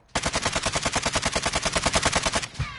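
A rapid burst of gunfire, about twenty-five evenly spaced loud shots in quick automatic succession over two and a half seconds, close by, then it abruptly stops.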